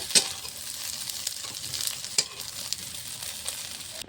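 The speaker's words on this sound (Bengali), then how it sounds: "ডিম দিয়ে মেখে রাখা সয়াবিনটা ভালো করে ভেজে নিয়েছি অনেকক্ষণ ধরে," Egg-coated soybean chunks fry in a pan with a continuous bright sizzle, broken by occasional sharp clicks and scrapes from stirring.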